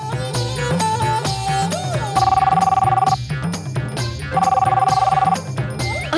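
A landline telephone in a Telugu TV serial scene rings in two trilling bursts, each about a second long, over background music.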